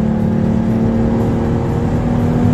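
An American-version Nissan 350Z with a 300-650 hp engine revs hard, a loud, close, steady droning roar that holds at a constant pitch throughout.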